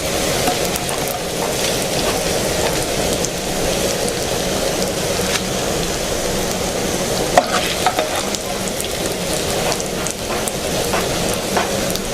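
Egg-coated sweet potatoes frying in hot oil, a steady close sizzle and crackle throughout, with occasional scrapes and clicks from a spatula moving the pieces.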